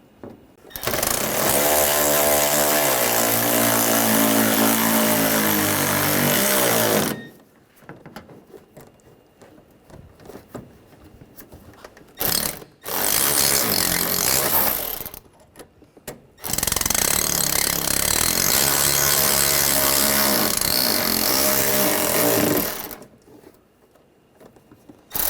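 A power tool drives bolts into the lower radiator support of a 2013-2019 Ford Escape 2.0L, loud sustained buzzing bursts running several seconds each, separated by brief pauses, with no talking.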